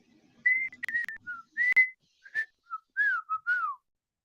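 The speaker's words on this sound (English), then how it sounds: "please stop whistling now" A person whistles a short tune of clear, sliding notes in separate phrases, some of them swooping downward. The whistle is close and alone, with brief gaps between phrases.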